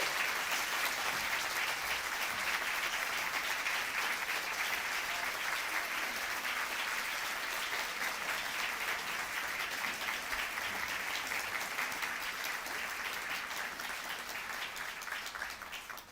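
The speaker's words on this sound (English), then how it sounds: "Please join me in giving them another round of applause" A large crowd applauds award winners continuously, a dense, even wash of clapping that holds steady before tapering off slightly at the end.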